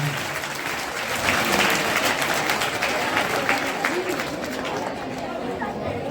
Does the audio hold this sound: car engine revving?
no